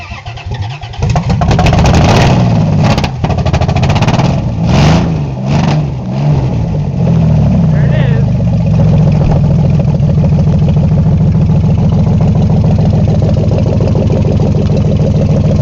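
A Dodge Ram 1500 truck with a swapped engine cranks and fires up for the first time, revving loudly in several sharp bursts before settling into a steady rough idle, close by.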